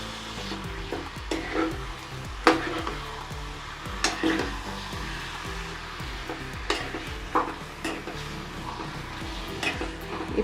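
Keema and methi leaves being stirred and mixed in a pan: repeated scraping and clacking strokes of a spoon against the pan over a low sizzle, steady and close, with no talking.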